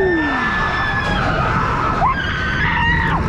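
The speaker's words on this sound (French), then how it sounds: "Il y a des gueuleuses à côté." Several people scream on a roller coaster at Busch Gardens Williamsburg, their high, wavering shrieks rising and falling loudly and close together over a constant rushing noise.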